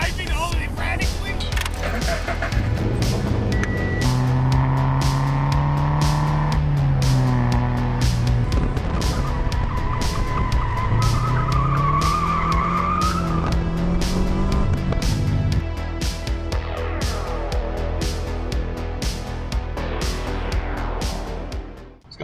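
A car driven erratically, its engine revving hard with rising and falling pitch over a loud, continuous road roar that lasts the whole stretch, with possible tire noise mixed in.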